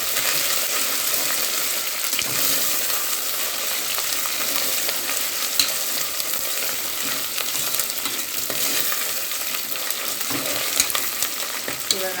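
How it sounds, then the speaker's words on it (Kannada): Ginger and garlic fry in a pan with a loud, constant sizzle, stirred continuously with faint scrapes and soft clinks, heard up close with no speech. "ಶುಂಠಿ ಬೆಳ್ಳುಳ್ಳಿ ಹಸಿ ವಾಸನೆ ಹೋಗೋವರೆಗೂ ಈ ಥರ ಮಿಕ್ಸ್ ಮಾಡ್ಕೊಳ್ಳೋಣ ಇದನ್ನು."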